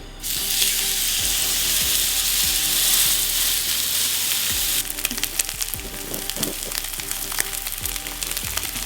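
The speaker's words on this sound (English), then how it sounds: "this is the sound that you want to hear when you put a steak in" Loud, steady sizzling of steak searing in a hot cast iron skillet, with occasional scrapes and knocks of the pan as it cooks.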